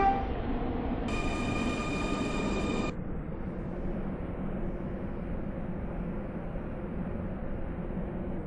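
A Class 707 train runs steadily in the SCR video game, its constant rail rumble carrying throughout, with a loud horn-like tonal blast sounding for about two seconds near the start.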